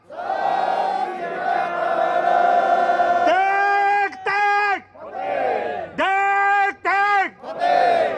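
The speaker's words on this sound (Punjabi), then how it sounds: "ਮੈਂ ਜਕਾਰਾ ਲਾਵਾਂਗਾ, ਸਮੁੱਚੇ ਵੀਰਾਂ ਨੇ ਜਕਾਰੇ ਦਾ ਠੋਕ ਕੇ ਜਵਾਬ ਦੇਣਾ।" A crowd at a rally answers a Sikh battle-cry chant with loud, sustained unison shouts, several long drawn-out calls separated by short breaks, close and forceful.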